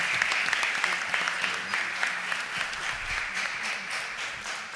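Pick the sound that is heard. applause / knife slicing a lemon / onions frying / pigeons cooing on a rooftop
applause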